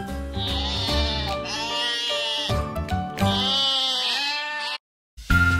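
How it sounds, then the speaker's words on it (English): A white sheep bleats in several long, wavering calls back to back, loud and close, with a short silence before one last bleat starts at the very end. "White sheep."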